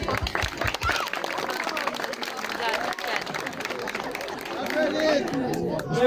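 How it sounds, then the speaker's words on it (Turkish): A festival crowd at a Sabantuy celebration breaks into applause, a dense patter of clapping mixed with chatter and cheering voices, building slightly toward the end, with people talking throughout. "Bir alkış alalım, alkış."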